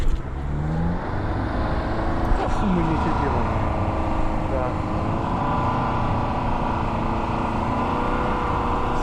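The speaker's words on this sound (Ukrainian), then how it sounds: "Включаємо повний привод і дивимося, як машина їде з даного препятствия." An off-road car in four-wheel drive, tested in winter, climbs over an obstacle, its engine droning steadily and loudly throughout with people talking over it.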